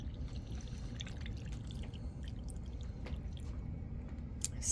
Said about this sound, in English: add a little bit of that brine until it gets to about 1 inch headspace